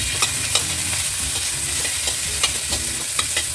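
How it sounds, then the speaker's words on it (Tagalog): Garlic sizzling in hot oil for a stir-fried cabbage with dried shrimp, a steady close frying crackle with scattered stirring clicks and scrapes throughout, no talking. "Pag mainit na yung oil, ilagay natin yung garlic."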